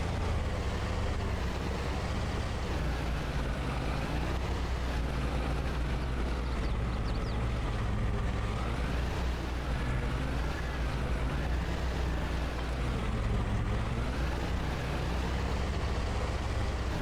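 A tractor engine in Farming Simulator 22 drones steadily and loudly for the whole stretch, a constant low rumble with slight rises in pitch, with no talk.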